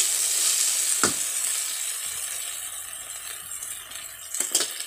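Fried peanuts stirred in hot ghee for South Indian lemon rice, a continuous close sizzle broken by a few sharp spoon clinks against the pan.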